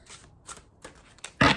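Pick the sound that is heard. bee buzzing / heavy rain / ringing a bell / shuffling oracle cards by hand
shuffling oracle cards by hand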